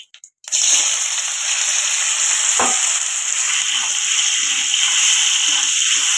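Lightly salted paneer frying briefly in hot oil for a Bengali-style mixed vegetable dish: a sudden loud sizzle bursts in after a short clatter and holds steady and close for several seconds, with faint stirring scrapes and no talking.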